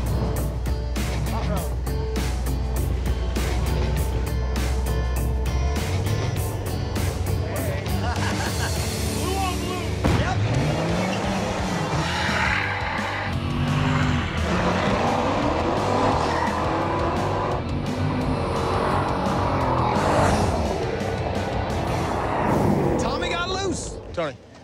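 Race cars battle on a street strip, engines roaring loudly and steadily with a deep rumble, tire squeal and skidding bursts, while crowd babble and talk sit underneath throughout.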